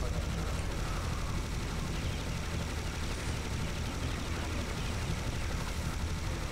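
Dense, continuous minigun fire in a video game, a steady roaring rattle of rapid shots filling the whole stretch at constant loudness with no pauses.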